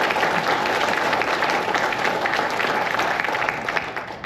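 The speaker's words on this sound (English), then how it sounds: "So we owe both of them a round of applause." Round of applause from an audience at a Revolutionary War history conference, many hands clapping in a steady, dense wash that fades slightly at the end.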